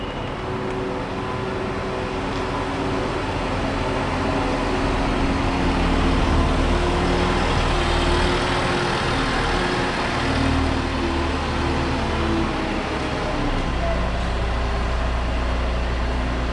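A Scania 144 530 V8 truck manoeuvring into a bay, its engine rumbling steadily nearby with a deep low idle and mild revving over a sustained stretch.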